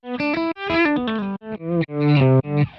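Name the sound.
BOSS ME-90 compression swell as poor man's reverse delay guitar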